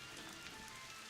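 Rain in a video game, a faint, steady wash of pattering drops with no break over a short span.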